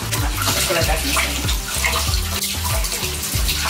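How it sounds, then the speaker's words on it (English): Mushrooms rinsed under a running tap, with a loud, steady stream of water splashing continuously from start to finish. "start rinsing off my mushrooms"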